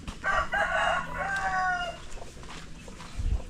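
Chickens on a farm crow and cluck at feeding time, with a rooster-like call rising early and scattered clucks and rustling after it, moderately close with no talking.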